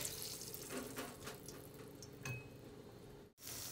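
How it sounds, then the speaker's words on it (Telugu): Water poured into a pressure cooker holding washed rice and lentils makes a steady, fairly quiet splashing rush with faint clinks, cut briefly near the end. "ఇప్పుడు వాటర్ యాడ్ చేసుకున్నాము."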